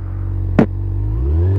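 Honda CBR600F sport motorcycle, 102 hp, running steadily on a test ride with a low droning engine hum, a brief sharp clatter partway through, and the revs rising slightly toward the end.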